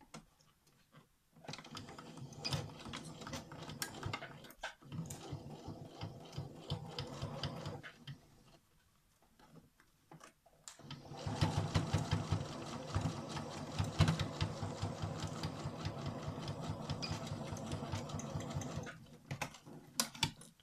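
Sewing machine stitching seams on a rectangular fabric pencil case, a close steady mechanical whirr in two long runs separated by a brief pause, no talk.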